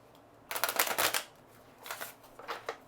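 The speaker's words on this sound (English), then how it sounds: "Okay, so I've shuffled." Tarot cards are shuffled in three quick, crisp bursts of riffling, close and clear against a quiet room, the first burst longest.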